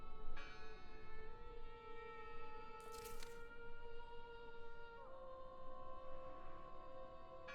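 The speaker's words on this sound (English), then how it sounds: "Listen! The bell!" Church bell tolling in the Draugen video game, with sustained resonant tones ringing steadily across the whole stretch and a short sharp burst partway through.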